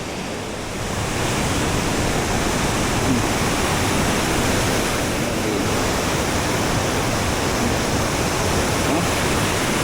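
Tat Kong waterfall in the rainy season roars in a loud, continuous, broadband rush of falling water, steady and close throughout.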